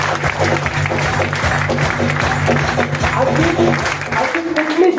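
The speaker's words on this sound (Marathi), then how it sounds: "त्या सीएमडी सरांसाठी एकदा जोरदार टाळ्या होऊ द्या." Audience applause at a company gathering in honour of the CMD, a broad steady clapping wash that holds for about five seconds with a voice and low hum underneath.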